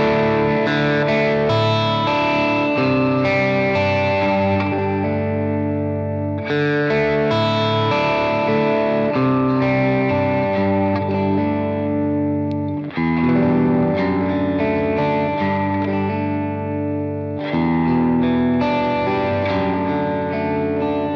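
Electric guitar played through a Great Eastern FX Design a Drive overdrive pedal, ringing chords with warm mid-rich crunch and sustain, strummed in long phrases that decay and restart, loud and alone without speech.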